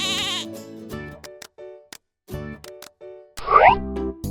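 Goats at a zoo bleat in a string of short, close calls separated by brief pauses, with one louder, wavering cry near the end.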